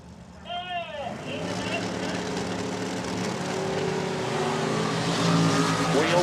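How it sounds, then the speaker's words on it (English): A nitro dragster roars down a drag strip at a Funny Car Chaos event, a loud, building engine roar that swells through the run while a track announcer talks over it. "Here comes the Dragster, top end."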